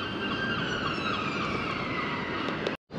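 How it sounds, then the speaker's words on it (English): Wailing sirens rise and fall continuously at moderate distance over a steady traffic rumble on Church Street in Blackpool, with no voices, ending abruptly. "You can hear sirens going off."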